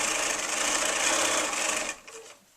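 A sewing machine runs steadily while chain piecing quilt rows for a crazy log cabin quilt, a close, even whir that stops abruptly near the end.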